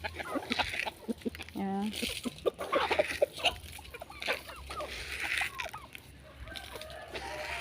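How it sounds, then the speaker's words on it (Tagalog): Chickens, called Chinese chickens, cluck and call in a backyard flock at snack time, with short repeated calls scattered over steady background noise while a person talks nearby. "Chinese chicken na tawag na."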